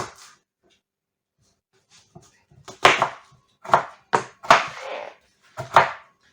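A knife chops onion on a board while preparing Uzbek Navoi-style plov, a handful of sharp, close knocks spaced irregularly, with a quiet gap before the chopping picks up.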